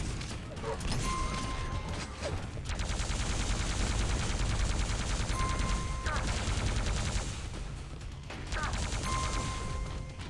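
Rapid-fire weapon in the arena shooter Quake Live, a dense unbroken stream of quick loud shots with brief pauses, mixed with game pickup tones and clanks, played close and full.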